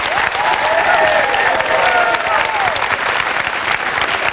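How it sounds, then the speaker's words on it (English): A studio audience on a Saturday night TV show in Dublin applauds a volunteer joining a magician on stage, loud sustained clapping with some cheering and a voice over it. "give her a huge round of applause"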